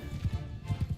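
Horse hooves clatter in a rapid, rhythmic clip-clop during a medieval-style video game battle, a steady galloping beat over a low rumbling background.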